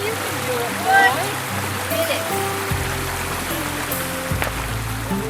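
A stream runs among cedar trees on a dude ranch, a steady soft watery rush with low rumbling background sounds and no voices.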